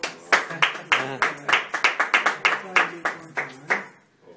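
Short round of clapping from a small group of hands, about fifteen distinct claps in an uneven rhythm, fairly close, with voices speaking over it before it stops.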